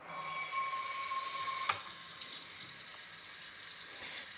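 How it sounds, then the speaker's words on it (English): Tap water runs steadily into a saucepan to fill about an inch deep for a double boiler, a continuous close hiss with a brief clink partway through. "About 1 inch of water"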